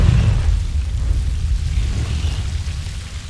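A Confringo fire spell blasts in Hogwarts Legacy, a deep rumbling boom with a heavy low roar that holds loud, then slowly fades over a few seconds, with no talking.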